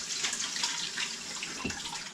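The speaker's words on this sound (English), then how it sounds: "while it's still steaming, you run some cold water over it" Cold tap water runs steadily over freshly cooked, still-steaming potatoes in a kitchen sink, a continuous close splashing hiss with no voices.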